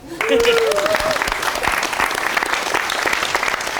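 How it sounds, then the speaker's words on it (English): An audience claps at a fireside chat event, a dense burst of applause starting sharply and continuing steadily, with a brief voice heard over it at the start. "Can we give Karl a round of applause?"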